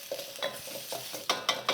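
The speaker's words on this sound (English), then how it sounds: "I want that constant searing noise happening" Schezwan green beans sizzle in a hot pan while being stir-fried and tossed, with rhythmic scraping bursts over a steady searing hiss, close up.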